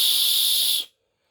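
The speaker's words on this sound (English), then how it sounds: "This is a whistle. I've had that for quite a long time." An old survival-kit whistle gives one loud, shrill, steady blast of under a second, then cuts off abruptly into silence.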